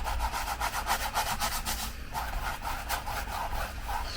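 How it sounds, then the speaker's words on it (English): A paintbrush scrubs acrylic paint onto canvas in steady, rhythmic back-and-forth strokes, close and fairly loud, with no talking. "Just scrub it in there."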